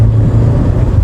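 A Hyundai Alcazar 2024 facelift with a 1.5 turbo diesel engine accelerates in sports mode on a highway, making a loud, close, low engine drone in one short, unbroken burst.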